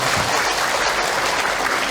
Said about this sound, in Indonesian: Tepuk tangan dong buat yang bertanya teteh